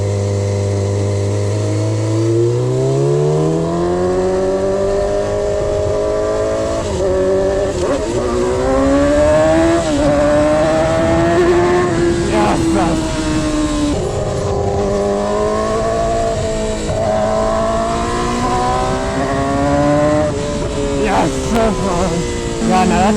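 A Yamaha R6 sport motorcycle engine runs loud and close, its revs climbing and falling through repeated throttle sweeps with rising and dipping pitch over a steady mechanical drone.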